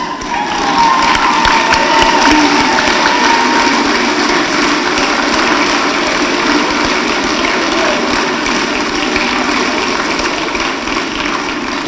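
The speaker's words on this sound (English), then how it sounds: "join me in giving a huge round of applause and tribute to the parents" Graduation audience at a high school ceremony giving a long, loud round of applause to the parents, a dense steady roar of clapping that fills the hall without pause.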